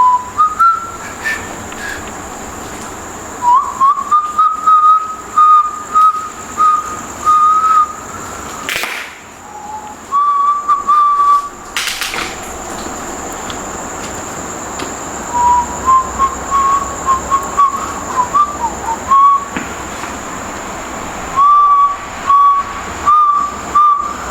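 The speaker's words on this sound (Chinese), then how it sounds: "接下来呢，我要开始吹口哨了哈。" A person whistles a slow, wandering tune in short phrases separated by pauses during a ghost-hunting experiment, the clear whistled notes close and prominent over a soft hiss, with two sharp noise bursts midway.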